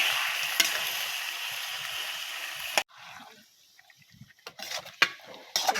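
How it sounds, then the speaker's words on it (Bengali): Duck meat stirred in a pan after a hot spiced tempering is poured in, sizzling loudly at first, then dropping to quieter scattered frying and stirring scrapes with a few sharp clatters of the spoon. "বাগারটা দিয়ে এই যে এরকম নাড়িয়ে চাইড়ে তারপর ঠিক আছে।"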